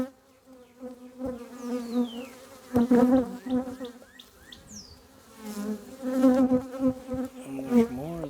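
Honey bees buzz around an open hive during a check, a dense, close, wavering drone that swells and fades with individual bees passing near, and no clear talk over it.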